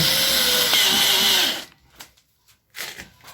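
A power drill drives a screw into a Kenmore front-load washing machine during repair, whining loudly and steadily for about a second and a half, then stopping, followed by a few short knocks and handling sounds.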